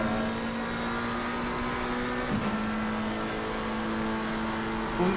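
Race car engine in Assetto Corsa Competizione, a GT3 car lapping Watkins Glen, holds a steady loud drone in third gear with a brief dip and shift midway, continuous and up close with no talk.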